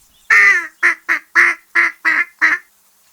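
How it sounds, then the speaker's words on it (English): Seven loud, distinct duck quacks, the first drawn out and the rest short, spaced at a steady, lively rhythm and heard close up with no other sounds. "duck."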